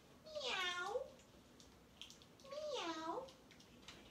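A voice imitates a cat, singing two drawn-out, wavering meows separated by a short pause, fairly faint and close in a quiet room.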